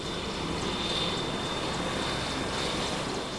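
A Merlin military helicopter powered by Rolls-Royce engines gives off a continuous broadband whine and rushing roar, steady and fairly loud, with a thin high tone on top and no talking.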